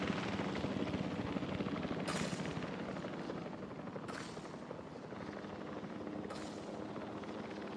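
A transport helicopter in a dinosaur park management video game flies steadily nearby, with a continuous rotor chop and engine drone, while a few sharp whooshes sweep through at regular intervals.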